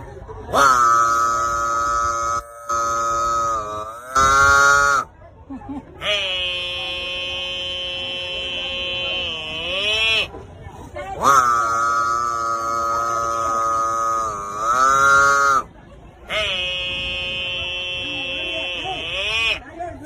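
At Banashankari temple in Badami, a voice imitates a buffalo's moo in three long, loud, drawn-out bellows, each rising and falling, with short pauses between them.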